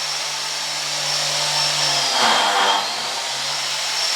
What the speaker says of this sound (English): He's got his biscuit machine, fence put down.